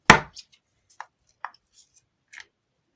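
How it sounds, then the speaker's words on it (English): A Jurassic World Miniverse toy egg cracks open with one sharp, loud snap, followed by a few small, faint clicks and ticks of plastic pieces settling. "After we've shook, we'll crack the egg open"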